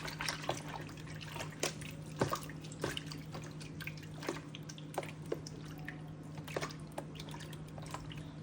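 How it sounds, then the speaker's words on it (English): Sourdough starter being stirred into water makes soft, irregular wet clicks and drips, quiet and close, repeating steadily without talk. "I'm gonna mix the starter with the water first"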